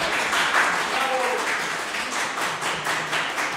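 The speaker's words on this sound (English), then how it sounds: "They can clap if they feel like it." A studio audience clapping, a dense, steady patter of many hands at moderate volume, continuing through the whole stretch with a faint voice underneath.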